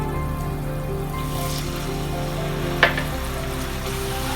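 Spices with kasuri methi and turmeric sizzle and fry steadily in a pan for lauki kofta curry, with a brief sharper hiss partway through as a little water goes in.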